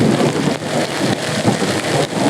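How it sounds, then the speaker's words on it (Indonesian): Heavy rain pours down during an extreme-weather race, a dense, steady hiss that stays loud and even throughout with no voices. "Masih terus hujan lebat"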